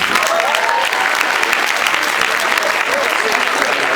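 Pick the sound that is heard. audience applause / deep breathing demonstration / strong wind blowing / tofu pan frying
audience applause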